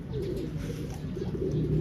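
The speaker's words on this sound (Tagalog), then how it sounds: "Nagpapababa tayo ng mga ibon natin galing ranging." Pet pigeons coming down after a ranging training flight coo softly and repeatedly at close range, a low steady murmur with no talk over it.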